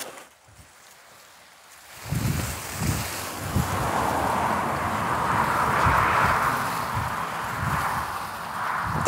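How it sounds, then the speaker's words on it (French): Gusty wind buffets the microphone in an outdoor vegetable garden in August, with a broad whooshing rush swelling and easing over it, like traffic passing nearby. "Entre le vent et les voitures,"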